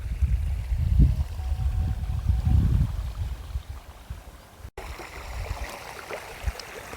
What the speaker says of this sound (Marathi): इकडं असं पाणी चालू आहे